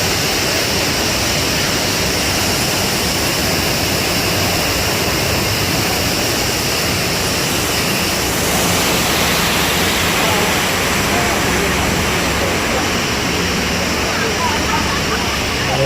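Theme park riders on a Universal Studios Hollywood tour get hit by a loud, continuous rushing spray of water. The roar stays close and constant, swelling slightly partway through.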